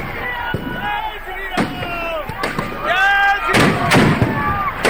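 Firecrackers and fireworks go off at a Dussehra Ravan effigy burning, with several sharp, loud bangs spaced a second or so apart over a backdrop of crowd voices and shrill, wavering tones.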